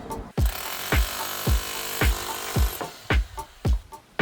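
A power drill whines steadily against a brick chimney, punctuated by regular heavy thumps roughly every half second, a bit irregular toward the end.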